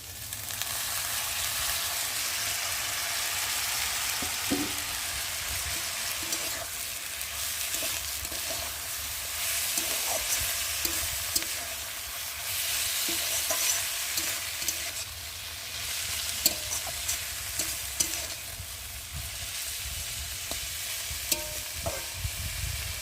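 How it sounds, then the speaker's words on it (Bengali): Juckti flowers fry steadily in hot oil with a constant crackling sizzle, broken by occasional stirring scrapes and clicks, close up and without speech. "এখন আমি যুক্তি ফুলগুলোকে দিয়ে ভালো করে ভেজে নেবো"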